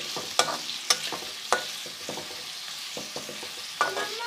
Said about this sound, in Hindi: इसको हमने हल्की आंच पर फ्राई करना शुरू किया हुआ है प्याज को